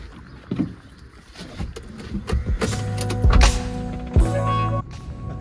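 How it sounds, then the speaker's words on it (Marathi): A car starts up and pulls away on a road trip toward Panvel: a rising tonal engine whine and hum builds after a few quiet seconds, close and fairly loud, with brief knocks and rustles. "आता जस्ट गाडी स्टार्ट केली आहे आणि आपण निघालो आहे"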